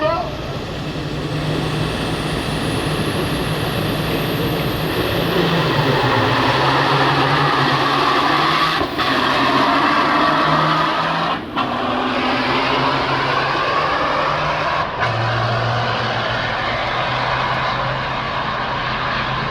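Diesel semi trucks at a drag race revving hard as their turbos spool up, a loud continuous roar with rising whine and rumbling low end, engine pitch sweeping up and down over about twenty seconds, with occasional voices in the crowd.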